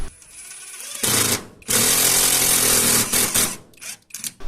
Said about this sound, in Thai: อันนี้ก็เอามา ขันสกรูปลายสว่านนะครับเพื่อเจาะยึดไม้เข้ากับโครงเหล็กแบบนี้